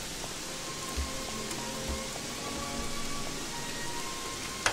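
Steady rain falls throughout in the Gothic 3 video game world, a constant broadband hiss with scattered faint drip-like ticks and occasional soft low thumps, fairly quiet with no talk.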